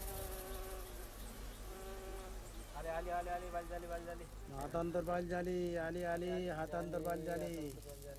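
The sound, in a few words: bees buzzing around hives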